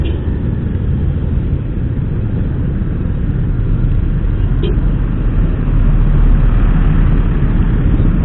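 Steady, dense road rumble from a traffic jam during evening rush hour, heard continuously from nearby with no clear breaks and no talking.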